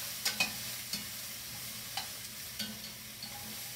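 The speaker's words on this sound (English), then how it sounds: "We get that in there. We stir it around a little bit." Garlic is stirred around a pot for beef stew, with several quiet spoon clinks and scrapes spaced over a faint low frying sizzle. Nobody speaks.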